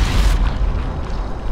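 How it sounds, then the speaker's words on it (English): A grenade going off in Sniper Elite 5, one heavy, booming blast that hits loudly at the start and then rolls away into a low, rumbling tail. "That's the first grenade kill I've got."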